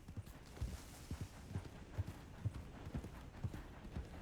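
Horse hooves clip-clop at a steady walking pace in a video game, a regular series of soft, fairly quiet thuds over a light background.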